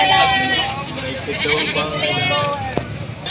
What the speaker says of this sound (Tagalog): napakaraming kambing pa ang mga natira dito